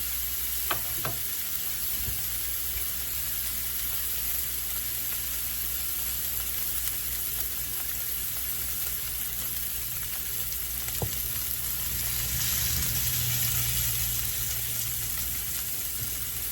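Venison backstrap sears in a hot pan, giving a steady, close sizzle and crackle that runs unbroken for the whole stretch, with a few sharp pops and a brief rise in intensity near the end.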